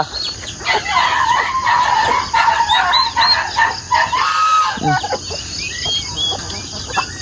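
On a farm, ducklings and turkey chicks give a dense chorus of high, repeated peeping calls, close and loud, with a few rougher fowl sounds mixed in. The calls thin out toward the end.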